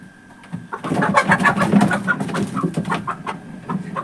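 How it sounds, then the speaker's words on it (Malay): A newly bought chicken handled outdoors on a farm plot, giving soft clucks and coos in close, irregular bursts over rustling and handling noise. "Ha, ini dia ayam dia."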